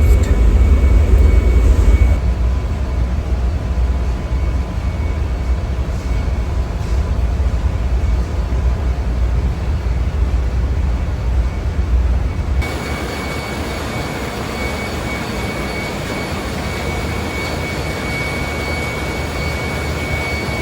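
Loud, steady machinery drone fills a ship's engine control room during bunkering at Gibraltar, a constant low-heavy roar with a brief louder surge at the start and a slight drop in tone near the end.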